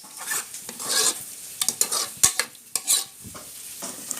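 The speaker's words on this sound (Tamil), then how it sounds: "இப்போ நல்லா கொதிச்சிருச்சு." Tamarind-based potato and brinjal pachadi gravy bubbles in a pan, heard as loud, close, irregular bursts of spattering and stirring clatter without any voices.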